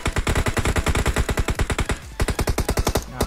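Rapid sustained automatic gunfire in PUBG Mobile, loud and close, firing in steady bursts of evenly spaced shots with a brief pause before another burst.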